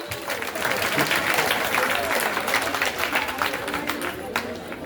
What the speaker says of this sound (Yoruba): Ẹ pàtẹ́wọ́ fún mi